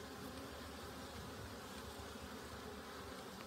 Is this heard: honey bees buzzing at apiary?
yes